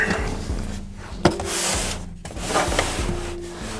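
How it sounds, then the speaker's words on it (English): A wooden drawer slides out with a dry rubbing scrape, a sharp knock partway through and a steady grinding drag after it, close by with no talking. "So we'll pull out this drawer."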